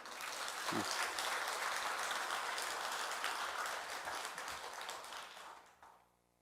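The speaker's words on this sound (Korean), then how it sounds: "큰 격려의 박수 한번 쳐주시죠" Congregation applauding during a Won Buddhist temple service, a steady wash of many hands clapping that fills the hall for several seconds, softer overall and fading away at the end.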